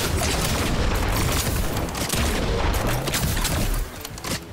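Heavy continuous gunfire and explosions in the Fortnite video game, loud and dense throughout with no pauses.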